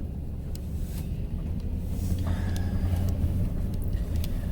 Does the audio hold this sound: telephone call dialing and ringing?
no